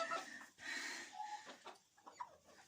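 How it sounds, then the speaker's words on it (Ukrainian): Hens settling into freshly laid straw in a coop cluck and murmur softly in short, uneven calls, close by with light rustling between. "Вон вже вмощуються курочки. Вже дзюбають дещо."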